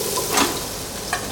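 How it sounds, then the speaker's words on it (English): Onions fry in oil in a clean pot at the start of a chicken curry, a steady close hiss with a couple of faint stirring scrapes. "Now to start off our curry, very clean pot, enough oil to cook off the spices. We're going to start off with our onions."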